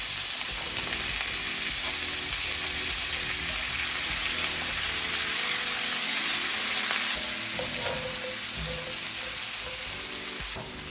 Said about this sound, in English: I'm going to saute my vegetables for just about 2 minutes